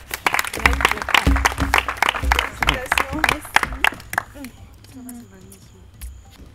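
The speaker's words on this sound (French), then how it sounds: "Applaudissements." An audience at the Miss Audace 2020 pageant applauds during a certificate presentation: sharp clapping bursts mixed with a voice over the room, tapering off toward the end.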